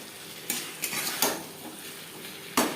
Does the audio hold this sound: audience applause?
no